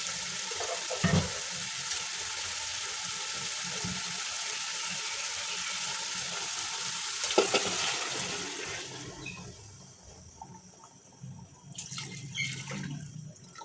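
Yakhni stock poured into fried meat for paya gives a steady, broad hiss and bubbling sizzle that fades gradually, with a few clanks of a spoon or pot close by.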